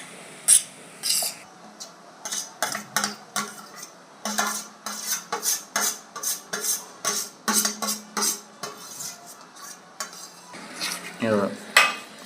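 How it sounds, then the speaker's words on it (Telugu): Boiled moong dal being stirred into cooked fenugreek leaves in a metal pot, a spoon clanking and scraping against the sides in quick irregular strokes, close and fairly loud, with no voices. "ఇప్పుడు ఉడకబెట్టి ఇచ్చిన పెసరపప్పు అందులోకి వేసేసి మిక్స్ చేసేసుకుందాం"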